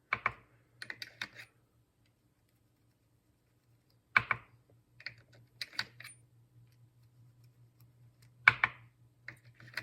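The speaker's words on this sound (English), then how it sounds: "We scrape the primer pocket, I tap it on the bench, and all the carbon and gunk comes out." Brass rifle cartridge cases for subsonic 300 Blackout being rapped against a workbench after their primer pockets are scraped, giving a few quick clusters of sharp hard taps spaced seconds apart over a faint steady low hum.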